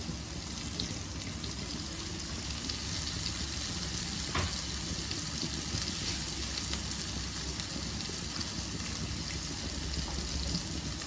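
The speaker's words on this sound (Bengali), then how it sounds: "এবার আমি আদা রসুন বাটা দিয়ে দিলাম" Ginger garlic paste sizzling in a frying pan for a fish curry, a dense, continuous crackling hiss that stays steady, with one brief clink partway through.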